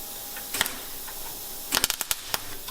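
A few quick crackling bursts from tack welding on a steel box section tube chassis in a home garage, close and fairly faint, clustered together after a single earlier click.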